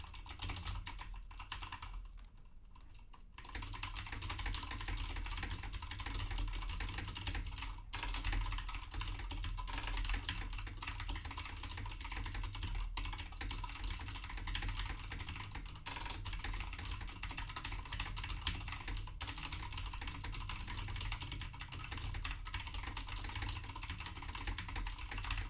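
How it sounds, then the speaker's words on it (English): Steady, continuous typing on a computer keyboard during a speed typing race, a dense stream of key clicks running almost without pause for the whole stretch at a fairly low level, with no voices. "I don't know how well you guys can hear my typing sounds."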